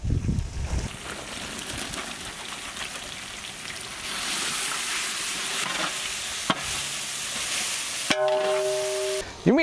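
Chopped garlic and sliced green chilli sizzle and get stirred in a hot pan while a chicken and broccoli dish is cooked, with a steady frying hiss, a few clinks of utensils and a brief louder burst near the end.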